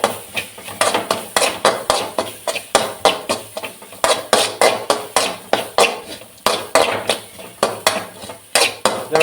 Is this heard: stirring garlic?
yes